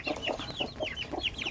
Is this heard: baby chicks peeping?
yes